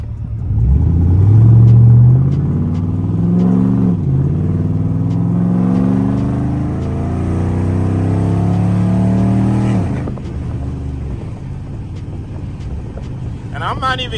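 A Chrysler 300C engine revs under light throttle, loud and close with repeated rising and falling sweeps, then drops to a settled idle after about ten seconds; a person talks over part of it.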